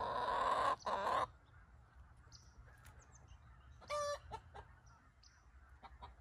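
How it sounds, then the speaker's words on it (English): Garden chickens give a few short, loud clucking calls at the start and a brief squawk near the middle, separated by quiet stretches of faint outdoor background. "And the chickens want to say good morning."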